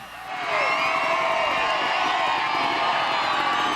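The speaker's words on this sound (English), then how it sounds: "The crowd was so into it." Thousands of spectators cheer and whoop at a freestyle motocross show in Terrace, a loud, continuous roar of voices swelling in after a brief quiet start and holding steady.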